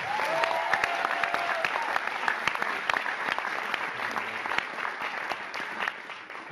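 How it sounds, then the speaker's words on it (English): Theatre audience at the Theatre Royal Waterford applauding volunteers and staff, a strong burst of many individual claps, crisp and near, gradually thinning toward the end, with a brief voice early on. "please do give them a big round of applause"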